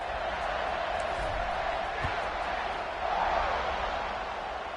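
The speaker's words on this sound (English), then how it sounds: "this crowd now ready to get behind them" A college football stadium crowd roars as a diffuse, steady wash of distant noise ahead of a kickoff after a failed two-point try, with a slight swell of cheering midway.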